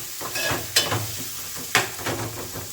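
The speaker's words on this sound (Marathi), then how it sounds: "मस्त कांदा टोमॅटो शिजून घेऊया आपण" Onion and tomato cooking in a pan for a wild mohа fruit vegetable dish in a Konkan village kitchen, with soft continuous sizzling and two sharp stirring scrapes of the utensil against the pan.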